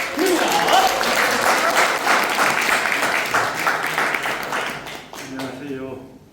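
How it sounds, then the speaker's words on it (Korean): A cafe audience at a meeting with a poet breaks into dense, loud applause that holds steady for several seconds, then thins out and fades toward the end. "여러분 뜨거운 박수 부탁드립니다"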